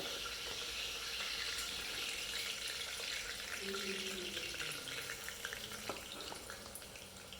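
Sliced onions go into hot oil with curry leaves for a chicken curry, giving a quiet, continuous sizzling hiss that fades slightly toward the end, with a faint voice in the background.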